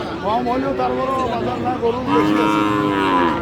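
Cattle moo loudly and repeatedly at the crowded Raniganj cattle market in Dinajpur, Bangladesh, while people chatter nearby.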